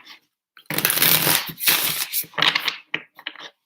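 Playing cards being shuffled close by, a long riffling burst followed by several shorter riffles and taps, with no talk.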